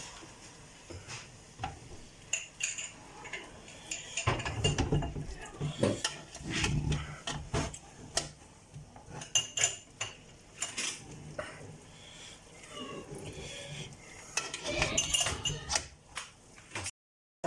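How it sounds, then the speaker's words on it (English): Chicken biryani rice stirred in a pot, with repeated close scrapes and clinks of a spoon against the metal and bursts of rougher mixing spread throughout, mostly without talk. "I'm putting it in and I'm kind of like mixing it to the best of my knowledge without trying not to break the rest of the rice grains"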